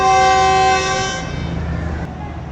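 Green Line Express train horn sounding at departure from a platform in Pakistan, a single loud sustained blast that cuts off after about a second, leaving a low engine rumble and station ambience.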